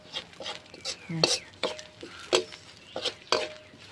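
Fermented fish dip stir-fried in oil, a spatula scraping and clinking against the pan in quick irregular strokes, close and moderately loud, with faint sizzling underneath and occasional soft speech.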